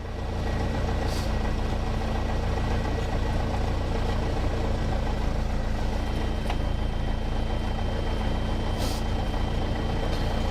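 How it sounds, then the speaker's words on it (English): A small airplane's engine idles with the throttle pulled fully back, a steady low drone, loud and close, with a constant rumbling hum and no voices. "Idle check, pulling the throttle all the way back out to idle."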